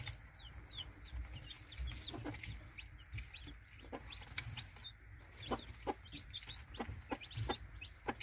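A Silky hen calling to her chicks over food, with soft repeated clucks and the thin peeping of chicks close by, steady and moderately quiet.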